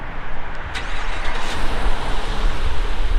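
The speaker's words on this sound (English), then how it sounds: "Truck started up." A 2021 Chevrolet Silverado Duramax diesel truck starts by key fob remote start, followed by a steady, fairly close engine rumble that settles into a low idle.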